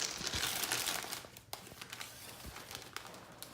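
Volcano kit powder is dumped into a Ziploc bag, giving soft crinkling plastic rustles and granular pouring sounds, fairly quiet and close, in short irregular bursts.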